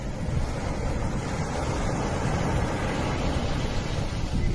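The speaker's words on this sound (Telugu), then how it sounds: "విండో తెరిస్తే ఆ అలల శబ్దం" Ocean surf by a small seaside house, heard as a steady, dense wash of breaking waves with a low rumble and some wind noise, continuous and fairly loud throughout with no voices.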